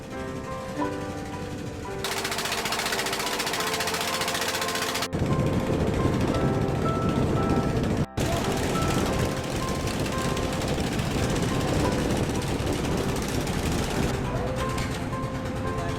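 A fully loaded ferry's engine on a one-hour river crossing in Madagascar, a loud continuous drone with steady rumble and broadband hum, shifting in intensity partway through.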